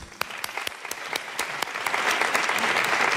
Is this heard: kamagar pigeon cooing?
no